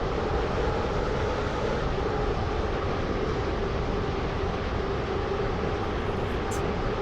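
A steady, loud train rumble from a video game runs continuously, an even rolling drone without pauses or voices.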